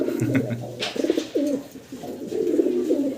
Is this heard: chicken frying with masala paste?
no